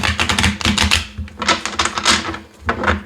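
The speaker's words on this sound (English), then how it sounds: "These cards, sorry if it's loud, it's like they're so thick." A thick deck of tarot cards is shuffled up close in loud, rapid rustling and clacking bursts, with brief pauses between riffles and no talk.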